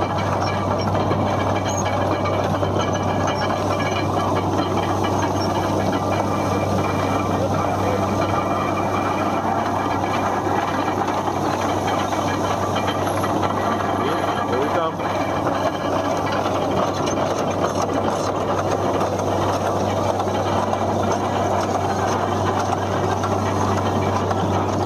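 A horse-powered carousel machine with a turning axle runs outdoors at a country fair, giving a continuous low mechanical hum with rattling, clicking gear noise over it, steady throughout.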